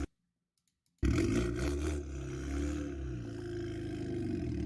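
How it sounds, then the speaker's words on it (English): A turbocharged car engine spools up under throttle in a video game, a loud, sustained roar rising sharply after a second of silence and holding steady with a whistling top. "Like you could just hear the turbo spooling."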